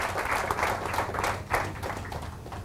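Audience applause at a motivational talk, a steady wash of many hands clapping at moderate level, rising and falling slightly over a few seconds with no talk over it.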